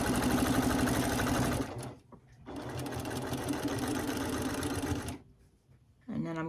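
A sewing machine stitches quilt seams in rapid continuous bursts, stopping briefly twice between runs, loud and close; the whirring motor dominates throughout.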